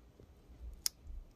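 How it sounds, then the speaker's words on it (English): A laptop keyboard ribbon connector is plugged into a Dell Inspiron 5570, giving one sharp, quiet click close by in otherwise still surroundings. "I'm plugging in the keyboard."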